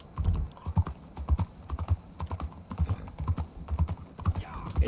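Steady clip-clop of an Arabian horse's hooves trotting at an even rhythm in a Wild West video game, close and clear, with no voices over it.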